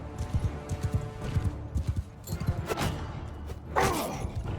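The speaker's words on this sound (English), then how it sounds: "Damn, his horse is fast." A fast horse galloping in Mount & Blade 2 Bannerlord, rapid rhythmic hoof thuds close and loud, ending with whooshing swings and a sharp impact.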